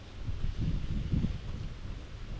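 Gusty wind blowing across a windy garden with dusty lettuce beds, a steady low roaring rumble with buffeting on the microphone and a faint hiss, and no voices.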